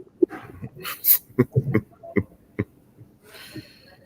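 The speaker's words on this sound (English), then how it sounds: "Oh, that dog." A dog gives a few short, scattered yips and whimpers, close and moderately loud, with brief pauses between the bursts.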